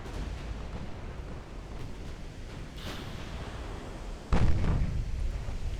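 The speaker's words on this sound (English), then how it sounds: "Let's go for a couple of HE salvos." Naval HE shell salvos in the warship battle game Ultimate Admiral: Dreadnoughts, a steady low rumble of gunfire and sea noise with a sharper crack midway and a heavy booming blast near the end.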